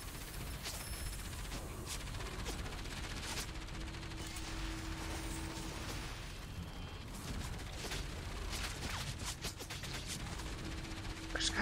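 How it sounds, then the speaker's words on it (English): Gunfire in the action video game Enslaved: Odyssey to the West, bursts of shots and booms over a continuous busy game soundscape, fairly faint, with a sustained tone in places. "Stop shooting me!"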